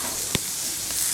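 Soya chunks frying in a pan, a constant close sizzle with one short sharp tap of a spoon against the pan.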